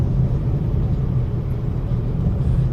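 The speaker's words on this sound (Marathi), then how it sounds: "ट्रॅफिक आहे थोडं या रोडला." Road traffic in Belapur, Navi Mumbai, heard from inside a moving car as a steady low rumble of engines and tyres, even and unbroken with no voices.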